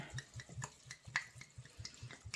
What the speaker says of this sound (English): So we're just going to pour the alcohol in there.